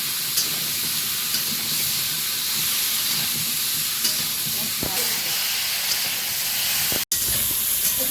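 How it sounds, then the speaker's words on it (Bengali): Soybean chunks and vegetables fry in hot oil in an outdoor Sundarban kitchen, giving a steady, fairly quiet sizzle and hiss with a few small knocks and clatters. "সয়াবিনটা ভালো করে ভাজা খুব দরকার সবজিগুলোও ভালো করে ভাজা"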